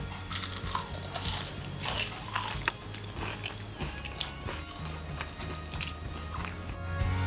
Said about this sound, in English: Hear the crunchiness.